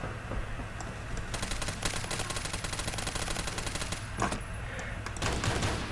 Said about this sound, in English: Near gunshots.